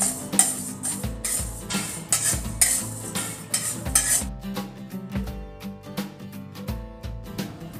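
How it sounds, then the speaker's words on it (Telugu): Coriander seeds are dry-roasted in a pan for homemade sambar, with repeated rattling scrapes and clinks of a spoon stirring against metal, close and rhythmic throughout. "ఫస్ట్ మనం ధనియాలు వేగించుకుందాం"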